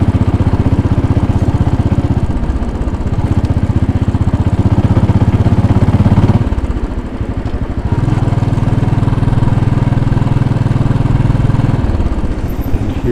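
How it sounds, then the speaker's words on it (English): Steady loud rumble of wind buffeting and a Royal Enfield Bullet 500 motorcycle engine throughout a ride through downtown New York City, continuous with a brief dip midway, no talking. "Boy, you hear that wind noise?"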